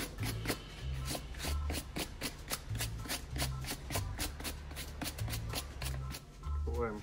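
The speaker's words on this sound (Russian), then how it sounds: "Перед началом мы, как обычно, проходим обувь щеткой," A brush sweeps over suede shoes to clear off dust, making rapid, repeated scratchy strokes in close, quiet rhythmic bursts, with a voice talking softly underneath.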